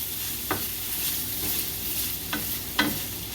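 Sausage sizzling in a pan while cooking jambalaya: a steady close hiss of frying, broken by a few brief scraping knocks from stirring, with no voices.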